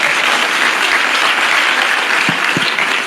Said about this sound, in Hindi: एक बार तालियां बजा दो भैया